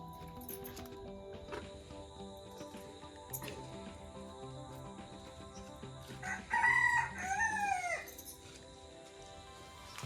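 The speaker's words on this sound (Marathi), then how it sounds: "मोर आहे वाटतं गावचं" A peacock calls in a village, two loud, wailing cries rising sharply near the end of an otherwise steady outdoor background.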